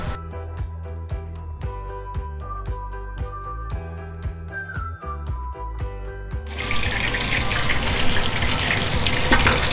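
Potatoes and garlic hit the hot pan for a sofrito, a loud steady sizzle and hiss rising after a stretch of music and continuing to the end without talk.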